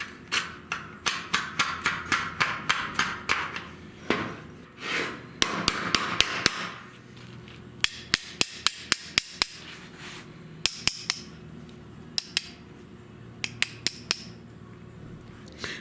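Repeated hammer blows drive a half-inch steel rod through bearings, sharp metallic strikes in irregular bursts, dense at first and then sparser taps, close and loud with no talking.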